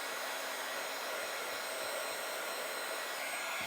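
A heat embossing tool warming up, giving a steady, fairly quiet blowing whir like a small hair dryer that holds constant throughout, with no voices.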